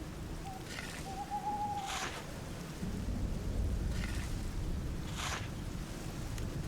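Steady rainfall in The Black Mirror, a soft continuous hiss with low rumbling beneath, brief bursts of noise and a faint hooting tone early on, no voices.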